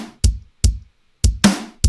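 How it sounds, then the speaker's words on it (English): Simple rock drum beat of sampled kick and snare, five sharp dry hits spaced unevenly over two seconds, with one brighter, noisier snare hit, loud and close with silence between strikes. "I've got this super simple drum beat that's just a kick and a snare"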